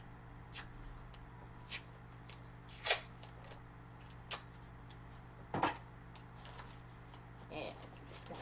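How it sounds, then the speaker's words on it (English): Masking tape is pulled and wrapped around a wine glass, making faint, scattered crackling rips and taps spaced a second or so apart over a quiet indoor hum. "I'm just going to tape it in place so it'll stay put."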